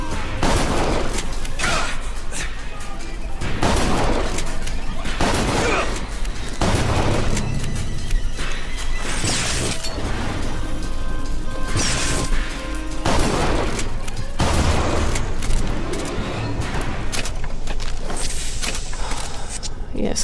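The Street Sweeper shotgun in BioShock Infinite fires repeated loud blasts at irregular intervals, each a sharp boom with a trailing decay, amid constant game noise.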